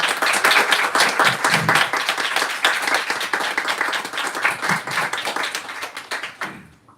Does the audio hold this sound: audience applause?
yes